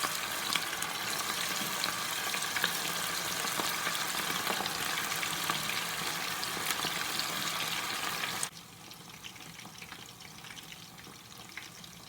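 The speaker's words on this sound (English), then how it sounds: "You allow it to fry in that oil." Green plantain balls fry in hot oil with a loud, dense, crackling sizzle that carries steadily, then abruptly drops to a quieter bubbling near the end.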